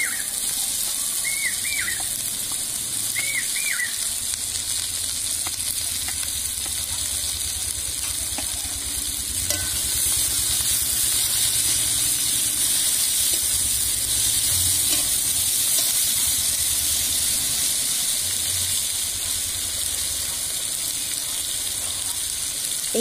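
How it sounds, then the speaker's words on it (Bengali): Crushed garlic and chopped onion sizzle in hot oil with caramelised sugar, a steady, even hiss that keeps up without a break, with faint clinks of utensils now and then. "চিনিটা এভাবে লাল হয়ে ভেসে উঠলে তেলের মধ্যে দিয়ে দিলাম থেতো করা রসুন। তারপরে দিয়ে দিচ্ছি পেঁয়াজ কুচি।"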